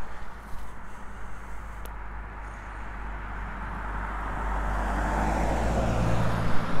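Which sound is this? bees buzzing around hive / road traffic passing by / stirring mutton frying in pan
road traffic passing by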